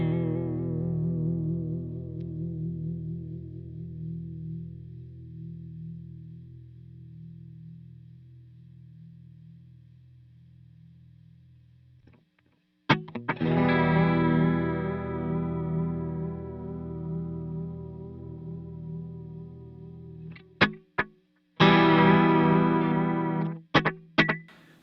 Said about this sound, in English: This is actually using slapback on one side and the chorus on the other.